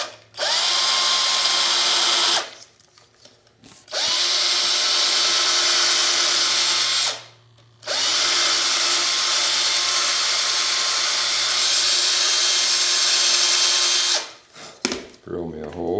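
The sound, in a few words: drilling a hole in a carved wooden horse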